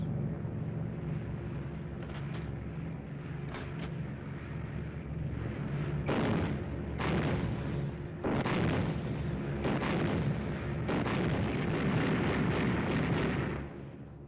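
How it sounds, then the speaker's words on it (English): Machine guns aboard a 1949-era bomber crossing the English coast fire test bursts: several heavy booming volleys in quick succession over a constant loud engine drone. "Okay to test your guns."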